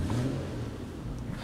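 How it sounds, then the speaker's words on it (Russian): Infiniti QX70 with a 3.7-litre engine idling, heard through an open window as a low, faint, steady hum with slight rumble. "Автомобиль у нас заведен, открываю окошко"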